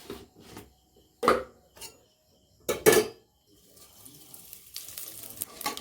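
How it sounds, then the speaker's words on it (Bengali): Cumin seeds dropped into hot mustard oil for a Bengali country chicken curry give short, sharp sizzling bursts, with quieter frying crackle and faint utensil clatter in between. "এবার একই তেলের মধ্যে আমি সম্বরা দিয়ে দেবো।"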